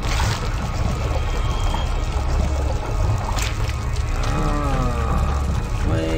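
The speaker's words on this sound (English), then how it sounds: "that's water." Water pours in the video game Dead Head Fred as a loud, continuous gushing splash close up, with gurgling tones rising near the end.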